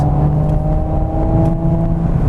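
A 2018 Audi RS5 engine pulls hard on a twisting B-road, a steady loud droning growl with strong low harmonics that holds through the clip, heard from inside the car with no talk.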